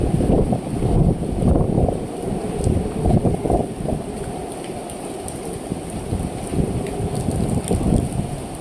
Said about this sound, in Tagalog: naghahagong-hagong talaga ang hangin